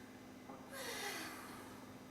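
A nervous person draws one deep, calming breath while trying to settle down at the top of a Ferris wheel, a brief airy rush through the nose that swells and fades, close and alone.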